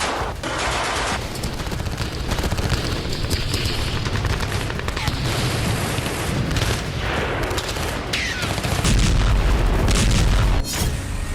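Heavy blasts from Israeli bombing near Beirut, in the Al Jura area, boom in loud, close succession with rapid crackling bursts like gunfire, with a deep rumbling surge late in the sequence.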